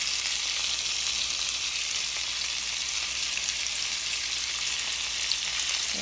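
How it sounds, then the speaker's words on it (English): Salmon sizzles in melted butter in a pan, a steady, bright frying hiss that stays even and close with no pauses and no voices. "every 2 minutes you want to baste your salmon with the butter, with the melted butter in the pan."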